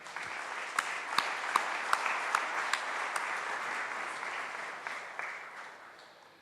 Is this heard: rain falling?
no